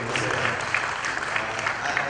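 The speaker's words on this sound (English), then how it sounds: "big applause to you" An open mic audience at a conclave gives brief applause, a busy patter of clapping that continues evenly through the short stretch at moderate volume.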